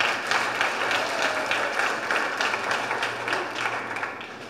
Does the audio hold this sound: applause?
yes